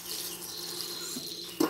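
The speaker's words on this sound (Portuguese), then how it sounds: "Tá vazando essa torneira." A newly installed household faucet leaks after being shut off, giving a faint, steady trickle of water near a sink, quiet and continuous, with a brief louder knock or splash at the end.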